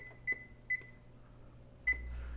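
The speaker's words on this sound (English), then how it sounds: "We're going to preheat our oven, let's see, to 450." An oven control panel being set to preheat to 450 degrees gives three short electronic beeps, the third followed by a low hum as the oven starts up.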